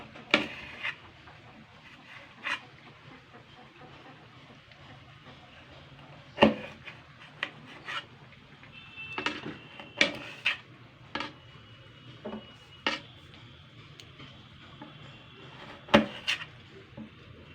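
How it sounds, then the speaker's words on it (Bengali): Knife chopping yard-long beans on a cutting board, a run of sharp, irregular taps spaced a second or two apart, close and fairly quiet, some in quick bunches, over a faint background hum. "বরবটিটাকে আমি সুন্দর করে কেটে নেবো"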